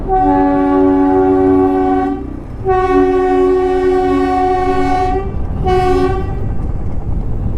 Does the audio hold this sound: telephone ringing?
no